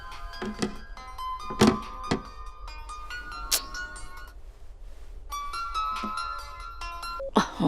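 A mobile phone ringtone chimes in bright repeated bursts, with a short pause midway before the melody resumes, heard indoors in a home where a mother is being called about tea, punctuated by a few thumps.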